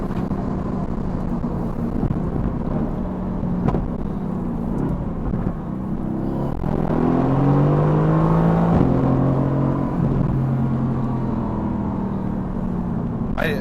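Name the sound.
Mercedes-AMG GT S engine revving in race mode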